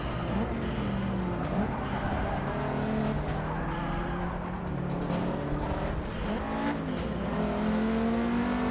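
Race cars from the video game Forza 6 roar around a track, with engines droning continuously, rising and falling in pitch, and tires squealing through corners. A Subaru is among them.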